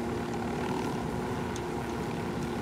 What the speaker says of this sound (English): I can just call in a helicopter.